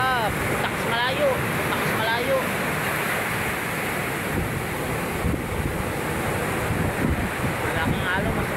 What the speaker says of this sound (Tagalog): Malaking alon mga sumragat, sobrang kalalaki.